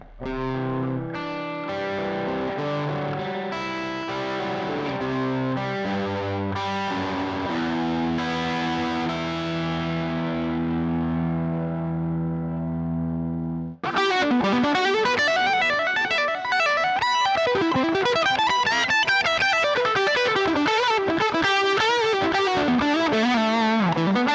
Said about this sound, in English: these are just a few of the tones that you can get with this awesome pedal